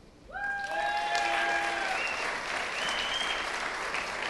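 A convocation audience applauds a graduate in the afternoon ceremony, dense sustained clapping that swells quickly and holds steady, with some cheers and whoops mixed in near the start.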